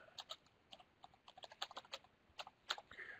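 Typing on a German-layout computer keyboard, with irregular bursts of fairly quiet key clicks scattered across a few seconds and no voices.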